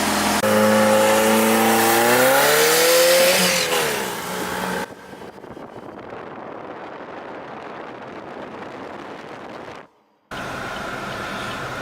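A car engine with its wastegate removed revs hard on boost, its pitch rising and wavering loudly before cutting out abruptly, then a lower rough idle that dies briefly and picks back up.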